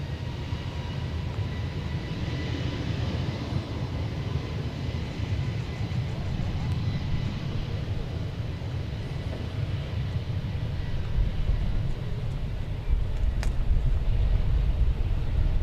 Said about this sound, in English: It's flight 1547 to Cancun in Airbus A321 Neo, which will be going through this picture momentarily.